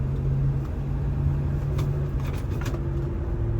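A 1975 Pontiac Grand Prix drives along, its engine rumbling steadily and loudly up close with a low, even drone and faint mechanical noise on top.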